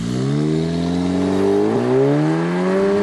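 An Audi S3 (2014) with the S-Tronic twin-clutch paddle-shift gearbox pulls hard from rest under launch control, its engine note climbing steadily and loud with a brief dip at a gear change before rising again, with no talking.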